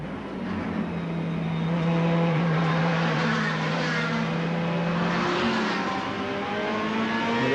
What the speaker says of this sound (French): Alors là, on est de nouveau dans une Ferrari. On vous laisse apprécier le bruit.